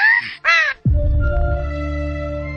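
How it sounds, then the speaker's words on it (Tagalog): Crow giving two harsh caws close by, followed by a loud low rumbling hum with steady tones, outdoors in a rural setting. "Tuwala ang uwak! Wag na mo balik!"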